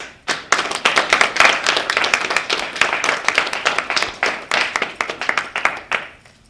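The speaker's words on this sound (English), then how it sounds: "Please give a round of applause for Mr." A crowd claps loudly and steadily for a businessman being introduced at an event, dense applause sustained for several seconds before tapering off at the end.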